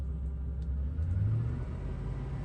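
An LS Vortec pickup engine with a failing pickup tube O-ring idles with a steady low rumble, then revs briefly and slightly when given a little gas before settling back, close and alone.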